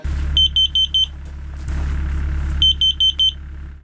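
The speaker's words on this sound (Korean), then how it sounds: "숯을 들여놓은 지 10분이 지나자 경보기가 울리기 시작합니다." A carbon monoxide alarm beeps in rapid bursts of five shrill tones, repeating twice over a steady low engine-like rumble, inside a tent with charcoal brought in.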